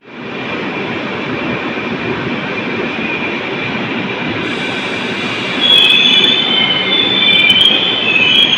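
An express train, the 16332 Thiruvananthapuram Central to Mumbai CSMT, rolls steadily on the rails with a loud, continuous rumble, and a shrill wheel squeal rises and grows stronger near the end.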